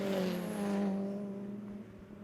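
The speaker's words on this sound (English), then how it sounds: "Across the line goes the Clio and the Seat." Renault Clio and Seat Leon saloon race cars at Kirkistown circuit pass with a loud engine drone that fades steadily as they move away.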